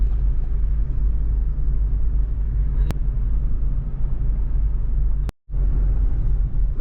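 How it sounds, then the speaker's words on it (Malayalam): A steady, loud low rumble of an offroad vehicle's engine running along a forest route, holding constant with a brief cut near the end. "ആ വണ്ടിയുടെ സൗണ്ട് കേട്ടാ."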